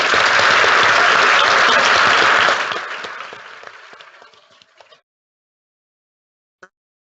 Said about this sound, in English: Please join with me in a round of applause.